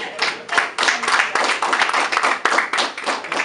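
A group claps in brisk, uneven bursts, close and fairly loud, with brief dips between rounds of clapping.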